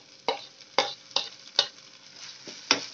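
Two onions and four or five green chillies are stirred in a pan for a Kerala crab masala, with a spoon scraping in distinct strokes about every half second over a faint sizzle, close and fairly quiet.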